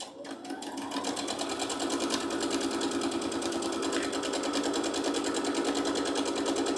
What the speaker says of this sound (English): I'm putting my presser foot down now, and we're going to sew.